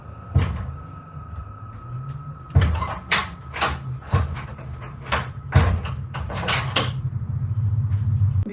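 A heavy door slammed shut and latched, heard as several loud, hollow metallic bangs and clunks spaced a second or so apart over a low rumbling background, close and resonant.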